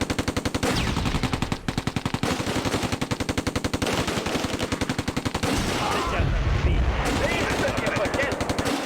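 Sustained machine-gun fire rattles in long rapid bursts during a battle in the war strategy video game Close Combat: A Bridge Too Far, loud and continuous, broken by a heavier explosive blast near the end.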